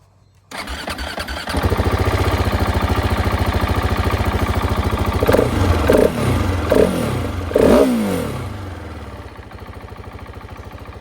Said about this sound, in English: the engine is so smooth, much smoother than last year's model, more powerful